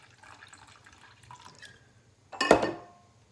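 Vinegar is poured into small pots, with faint clinks and handling at first, then a sudden, brief burst of liquid splashing into a small container that quickly trails off.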